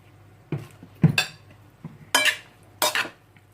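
Cooled pasta salad is mixed in a dish, heard as a few separate close scrapes and clinks of a utensil against the bowl, each short, with quiet pauses between them.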